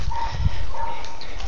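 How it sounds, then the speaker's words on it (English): A hunting tracker dog barks, a close run of yaps and yelps filling a short outdoor moment, with no talking over it. "He's a pretty good dog."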